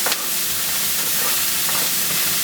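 Vegetables sizzle in a hot frying pan with butter, a loud, steady hiss that stays bright and continuous throughout, with no voices.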